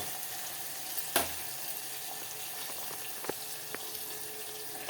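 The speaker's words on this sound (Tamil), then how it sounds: "அந்த மண்டையை போட்டு இந்த மண்டையை நல்லா ஃப்ரை பண்ணுங்க பாப்போம்" A chicken head fries in a pan with a steady, fairly quiet hiss and sizzle, broken by a few sharp clicks and taps of a utensil.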